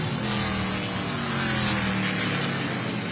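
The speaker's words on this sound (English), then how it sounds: "Look at the car zooming off down into turns one and two." An ARCA stock car in a short-track race at Evergreen roars away into turns one and two, a continuous loud engine drone over a dense wash of crowd and track noise.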